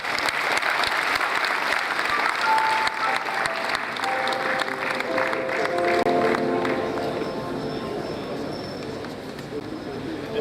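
Audience clapping fills a medical graduating class induction ceremony in a large hall, steady dense applause lasting throughout with a voice speaking over it partway.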